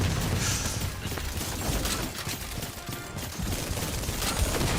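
Sustained automatic weapon fire in The First Descendant shooter game, rapid continuous bursts of loud gunfire with the trigger held down, dense and unbroken for several seconds.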